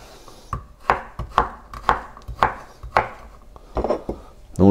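A knife dices onion on a cutting board in about nine sharp, evenly spaced chops, close and clear, followed by a quick flurry of faster cuts, with no talking.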